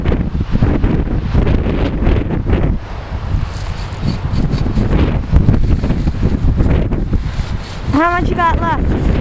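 Strong wind roars and buffets the microphone outdoors during a Christmas tree cutting, a loud, steady rumble with gusts throughout and brief voices in the mix.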